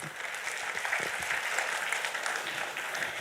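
Audience applause at the 62nd National Cost and Management Accountants' Convention, a short, even patter of many hands clapping together in a large hall, moderately loud and steady.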